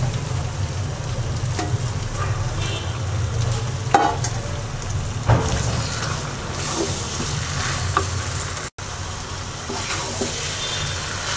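Rice stirred and frying in hot oil in a pan while making a sweet, sour and spicy mixed-fruit pickle: a steady, close sizzle runs throughout, with occasional scrapes and stirring knocks.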